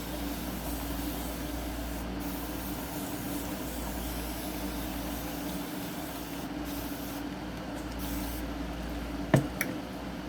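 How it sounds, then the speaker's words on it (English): A spray bottle mists water onto hair in a steady, continuous hiss lasting several seconds, close to the mic, ending with a couple of brief clicks or squeezes. "I'm just gonna spray some water."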